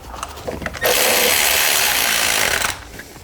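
A Milwaukee power tool runs in one loud, steady burst of about two seconds while driving a steel bolt into the aluminum engine block of a Mercedes C350, with quieter clicks and handling sounds before and after.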